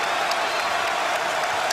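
Crowd at an NCAA men's basketball game between Baylor and Xavier roars and cheers in a continuous, loud, even wash of noise throughout, with no clear talk over it.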